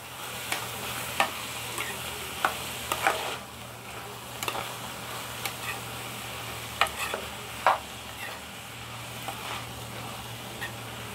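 Sprouted moth beans (madike kalu) being stir-fried in a pan for palya, with a steady sizzle under scattered sharp scrapes and taps of a spatula against the pan, all without speech.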